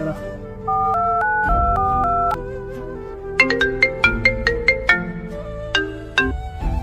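A phone ringtone plays loudly while a call is placed, a melodic electronic tune of sustained notes followed by a run of short, bright plucked tones.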